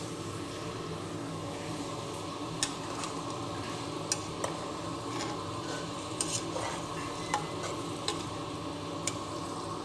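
Food stirred in a pan after salt is added while making a date pickle, a faint steady sizzle with sparse sharp utensil clicks, close but quiet with no talk.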